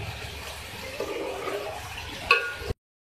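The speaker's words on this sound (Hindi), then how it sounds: "इसमें मैं 1 कप पानी ऐड कर रही हूँ इसको कुक करने के लिए" Water poured into a cooking pot of chicken curry after the yogurt has been fried in: a steady, rushing splash lasting a couple of seconds at moderate loudness, then cutting off abruptly.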